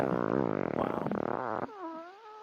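A computer voice assistant plays a fart sound on a radio morning show, a loud rasping blurt that flutters for over a second and then cuts off into a quieter tonal tail.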